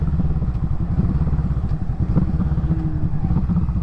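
A Kawasaki Vulcan 650 cruiser motorcycle rumbles loudly up close while downshifting through its gears, a steady low engine drone with clattering mechanical texture and brief pitch shifts as the revs change.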